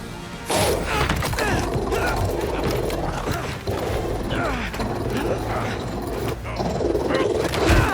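A robot dog in the Spider-Man 2 video game growls and barks amid loud metallic clanks, thuds and crashes, the clatter continuous and close with bursts of impact throughout.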